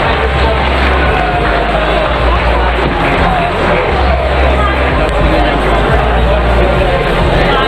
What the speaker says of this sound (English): Gentlemen, once again, a massive round of applause for your two finalists.